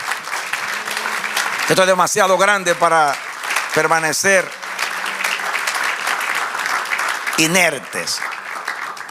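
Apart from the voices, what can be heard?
congregation applauding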